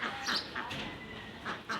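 Ducks being fed give a few short, faint quacks in scattered bursts, soft and somewhat distant against a quiet morning background.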